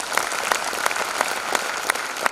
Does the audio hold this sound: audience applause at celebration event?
yes